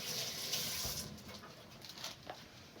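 Kitchen tap running while hands are washed between handling vegetables, a soft continuous splashing flow with faint patter, moderately quiet and close.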